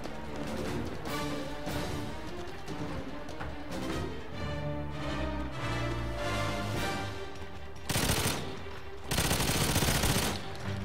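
Rapid gunfire from a weapon in GoldenEye 007 Reloaded on PS3, Station level, with sustained bursts over game music and ambience and two louder, denser volleys near the end.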